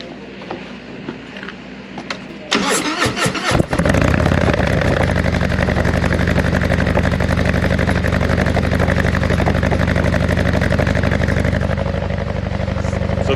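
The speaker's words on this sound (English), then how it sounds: "I'm gonna start this motorcycle up and let you hear what it sounds like" A Harley-Davidson motorcycle with a 131 engine cold-starts: quiet background, a few seconds of cranking, then it catches into a loud, steady, rumbling idle that holds, close up.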